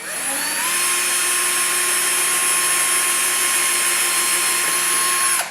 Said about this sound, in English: I've got 2 bolts in just to kind of hold it in place as I pre-drill the rest of them.